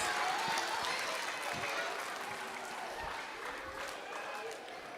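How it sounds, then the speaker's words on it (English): Kids camp audience in a hall gives a big round of applause for the actors, a dense wash of many hands clapping at once that starts strong and slowly tapers off, heard from a moderate distance. "give the actors and Mr. Tim a big round of applause"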